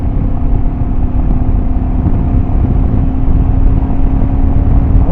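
A Royal Enfield Himalayan motorcycle accelerates along a straight road, its engine droning loudly and steadily with wind rumble and no voices.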